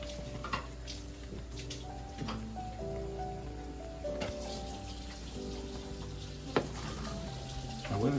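Food boils in a pot on a stovetop, a soft steady bubbling and crackle heard faintly beneath a constant background hum.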